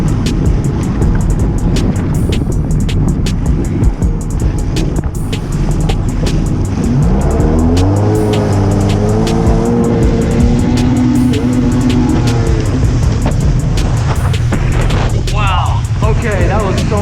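Sea-Doo 1300R personal watercraft engine pulling at wide open throttle with an uneven, misfiring note, loud and steady throughout with a rising tonal whine midway; a person talks over it.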